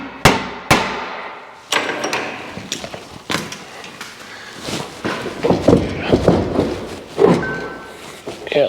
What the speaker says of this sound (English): I have my Volvo hammer.